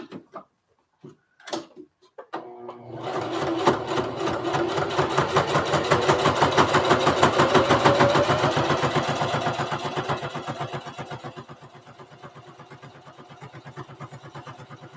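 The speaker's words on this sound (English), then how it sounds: "I'm sewing through a lot of layers" A sewing machine stitches a lunch tote through many stacked fabric layers, a close mechanical whir that starts with a few clunks, then drives rapid, even stitch pulses for several seconds before slowing and fading.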